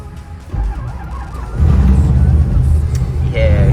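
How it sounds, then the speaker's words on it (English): An LS-swapped Nissan 350z engine cranks and catches, jumping from a quieter rumble to a loud, rough, steady idle partway through, with a voice over it. "Yeah, it fires right up."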